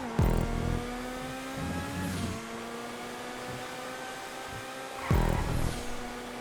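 A GT1 race car in GTA 5 roars along the North Loop track, its engine whining at steady high revs with gear-change dips and shifting pitch, loud and continuous with other cars' engines blending in.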